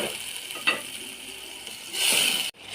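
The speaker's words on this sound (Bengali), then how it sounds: "এখন আমি এই তো আলুগুলা দিয়ে দিচ্ছি। এগুলা দিয়ে আমি কিছুক্ষণ কষিয়ে নেব।" Potatoes sizzle in a pan with a quick stir, then a brief louder hiss before a sharp clatter cuts it off.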